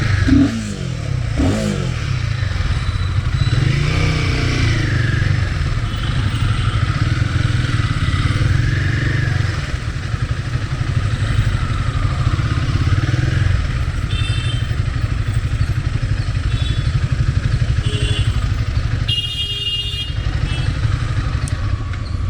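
A motorcycle engine runs loud and close throughout, with a steady low rumble, a few rises in revs and some clatter; the bike is a Himalayan 450, Scrambler 400X or Duke 390.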